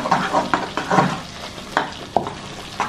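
Blended lentils frying in ghee on low heat for halwa, a soft sizzle broken by rhythmic scraping stirs every half second or so, close by with no talking.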